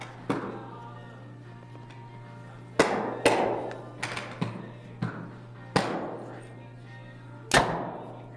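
A Prime Nexus 2 compound bow, set at 70 pounds and 26-inch draw, fires 420-grain Easton Axis arrows. Several sharp, loud release thwacks land irregularly over a low steady hum, each followed by a brief ringing decay.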